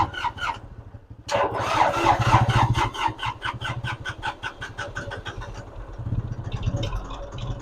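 A vehicle engine cranks briefly, then catches and settles into a loud, close, rapidly pulsing idle that rises and dips over several seconds.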